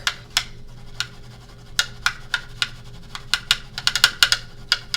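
A makeup brush rapped hard against a surface to knock off fallen eyeshadow shimmer, a loud, irregular series of sharp taps that speed up into quick clusters near the end, heard alone with no talking.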